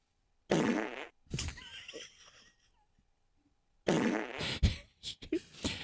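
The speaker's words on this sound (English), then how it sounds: "so your one job is to fart" Loud, sputtering farts in two bursts separated by a quiet gap, the second breaking into several short popping blasts, with people reacting nearby.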